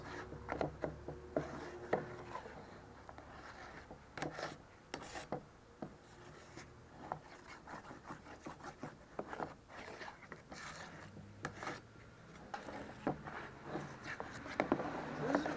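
Wall repair mud being folded and mixed by hand, a steady series of close, quiet scraping and rasping strokes with soft wet smears, no talking.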